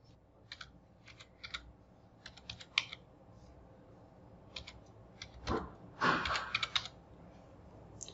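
Fingers type details into an online exam registration form on a computer keyboard, sparse clusters of light key clicks with pauses, then a denser burst of taps and a heavier clack near the end, close and quiet.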